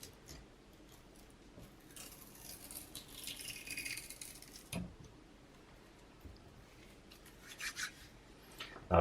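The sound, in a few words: peeling and scraping old foam tape off speaker magnets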